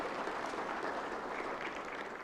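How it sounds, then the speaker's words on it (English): Sustained round of applause from a large audience at a national election conference, steady dense clapping filling the whole moment with no voices on top. "A better round of applause for Lady Justice Nangu."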